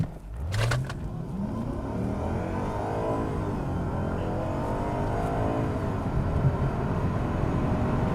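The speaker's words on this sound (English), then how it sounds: "I kind of want to do a bit of an acceleration run from a stop" A Lexus GS 460 V8 sedan pulls away hard from a stop, its engine note rising steadily in pitch through the run, heard from inside the cabin as a loud continuous drone with no talk.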